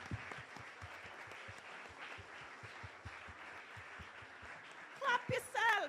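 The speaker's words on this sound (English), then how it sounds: "Look at somebody now and clap them." Scattered, fairly quiet clapping from an audience at a Louise Bennett-Coverley symposium, individual hand claps audible in a loose rhythm before voices and laughter burst in toward the end.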